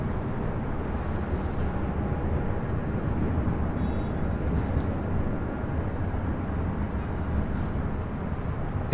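Alaska Airlines Boeing 737-800 arriving at LAX from Seattle, a loud, steady broadband jet roar that holds level throughout without any voices.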